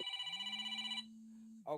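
A telephone ringing: a short electronic ring tone with a sustained buzzing hum beneath it, fairly faint and cut off after about a second, followed by a brief voice sound.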